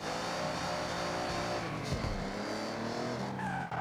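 A modded car exhaust in Forza Horizon 6 roars loud and close with a high-pitched metallic engine tone, brief crackling pops and a tire squeal near the end.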